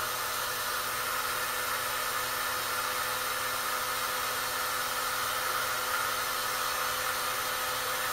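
A heat gun runs steadily at close range while warming an arrow broadhead, a constant, loud airy blowing hiss that holds unchanged for the whole stretch with no voices.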